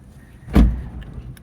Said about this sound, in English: Somebody just got in their car that was right next to me